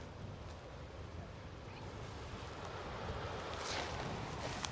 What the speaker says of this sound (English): You can hear the waves, everyone, just coming in nice and soft.